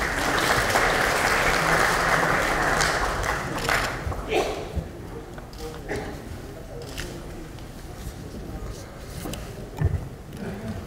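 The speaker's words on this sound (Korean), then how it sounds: "큰 박수로 모셔주시기 바랍니다." Audience applause welcoming a party leader onto the stage at a Democratic Party lawmakers' workshop, a dense loud roar of clapping that thins out midway into scattered claps, with voices murmuring underneath.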